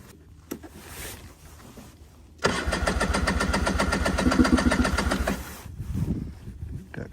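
A cold engine of a 1990 Pilot off-road vehicle cranks and catches, then idles roughly with a steady, close, pulsing rumble after a quiet start.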